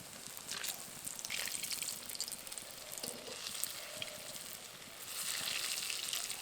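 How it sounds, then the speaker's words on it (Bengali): Lentil fritters (boras) for doi bora sizzle in moderately hot oil with a steady, soft crackling hiss that swells slightly toward the end. No voices. "বড়াগুলো হালকা গরম তেলে ভেজে নিচ্ছি, আর দেখুন কত সুন্দরভাবে ফুলে উঠে যাচ্ছে।"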